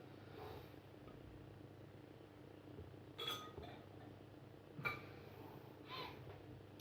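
A large wine glass from a home beer glassware collection is picked up and set down, giving a few light clinks and knocks, close but soft against a low background hum.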